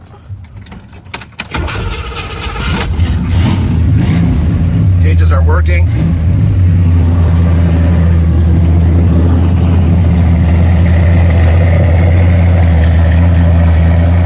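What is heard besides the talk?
1966 Chevy Chevelle SS blueprint motor starting and running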